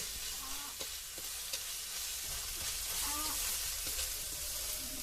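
Ingredients being stirred together in a little oil over a wood-fired stove, a steady hissing sizzle with soft intermittent scraping strokes.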